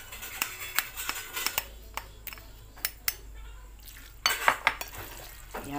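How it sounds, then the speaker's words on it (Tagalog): A utensil stirs food in a metal pot while tapioca cooks, giving sharp scraping clinks and knocks at an irregular rhythm, with short clusters of taps against the pot and a quiet background between them. "Halo din natin."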